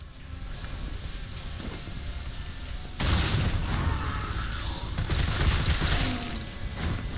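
A grenade blast in the Resident Evil 3 remake lands as a sudden loud burst about three seconds in, its broadband roar lingering over the rest of the clip above a steady game backdrop.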